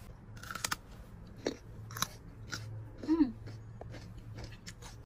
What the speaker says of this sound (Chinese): 这个胡萝卜真的很好吃，咬起来脆脆的